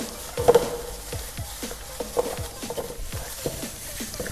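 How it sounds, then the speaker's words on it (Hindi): Chicken pieces are mixed by hand with Kashmiri chilli powder and three spoonfuls of yogurt, making close, soft wet squelches and scattered light clicks over a few seconds, with no voices. "अब इन चीज़ों को डाल के हम अच्छी तरह से मिक्स कर लेंगे।"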